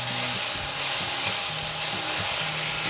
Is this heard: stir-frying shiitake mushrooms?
yes